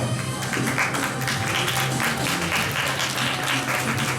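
At a school entrance ceremony, an audience claps continuously for a new student coming up, a dense, even patter of applause with a low murmur beneath.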